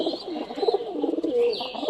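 Pigeons coo in soft, rolling throaty calls that overlap one another, close by and moderately loud, with no voices heard.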